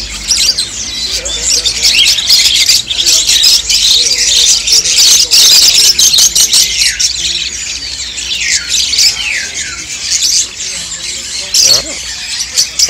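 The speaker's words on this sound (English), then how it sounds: "Here's some parakeets and parrots." Caged parakeets and parrots at the Mong Kok Bird Market in Hong Kong chirp and squawk continuously and close by. Their shrill calls overlap densely, with a few sweeping whistles rising above the chatter.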